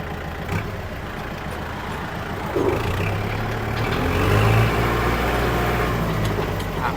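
A Kubota MU4902 tractor engine runs steadily with a low diesel rumble that swells slightly as it works through the gears, close and continuous with no talking.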